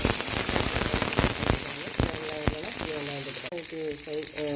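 Mustard seeds and curry leaves sizzling loudly in hot oil, a dense crackling hiss with sharp pops, close and continuous with no talk.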